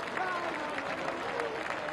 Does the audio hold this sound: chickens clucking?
no